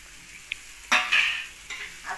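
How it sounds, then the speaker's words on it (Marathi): Egg bhurji with coriander is stirred in a pan: a couple of brief scraping strokes of a spatula with a soft sizzle, close and fairly loud, with no talking. "आता हे मस्त छान असं सर्व मिक्स करून घेऊया"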